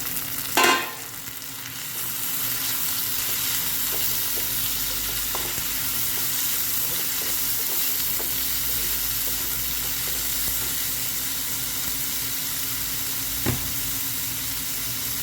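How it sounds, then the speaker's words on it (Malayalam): Crushed shallots and garlic sauté in a pan of oil for a Kerala pork curry, a steady close sizzle running throughout, with a sharp clatter near the start and a brief knock toward the end. "പത്ത് 15 ചെറിയ ഉള്ളി ചതച്ചത്, 10 വെളുത്തുള്ളി ചതച്ചത് ഇതിലേക്ക് ചേർത്തൊന്ന് വഴറ്റിയെടുക്കാം."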